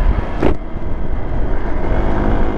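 A motorcycle riding off-road in the rainy season gives a loud, steady engine drone with rough rumbling and wind buffeting close to the rider, and a brief rushing burst early on.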